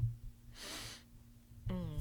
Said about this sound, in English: Why did I just sniff the mic?